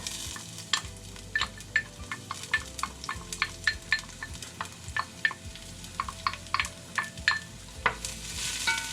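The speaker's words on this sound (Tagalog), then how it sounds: "oil so that we can saute the garlic, the onion, and the tomato" Garlic sautéing in oil for a Filipino michado dish, with a soft sizzle and a quick run of light spatula taps and scrapes against the pan, nearby and fairly regular.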